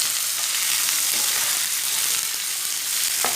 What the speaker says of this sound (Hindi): प्याज को 2 मिनट तक पका लेंगे।